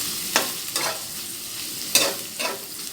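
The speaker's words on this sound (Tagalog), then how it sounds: "sizzling sisig na sardines" Sardines fry in a hot pan with a steady sizzle, broken by a few sharp scraping stirs as they are turned; no voices.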